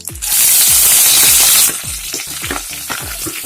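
Fenugreek seeds dropped into hot oil for a coconut fish curry give a sudden loud, hissing sizzle that fades after a second or so into a rapid, close crackling and popping.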